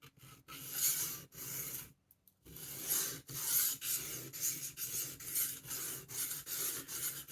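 A.Wright pocket knife blade stroked back and forth on a 1000 grit whetstone, rhythmic close rasping strokes with one short pause partway.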